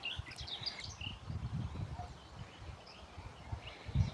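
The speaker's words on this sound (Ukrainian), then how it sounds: "Різнобарний щебіт пташок." Birds chirp and sing outdoors in a green garden setting, with several high, short tweets and trills scattered across the stretch. They sound faint and somewhat distant over a low rustling, breezy background.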